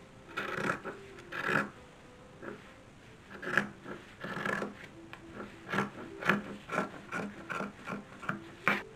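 Scissors cutting long lengths of silk piping for an 1830s dress, a close, quiet series of crisp irregular snips and rasping rubs of blade through fabric, repeating throughout.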